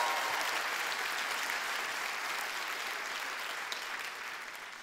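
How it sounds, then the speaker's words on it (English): Sustained audience applause at a Women's History Month celebration, a dense even wash of many hands clapping that holds steady for about five seconds before easing slightly. "Let's give them all a round of applause."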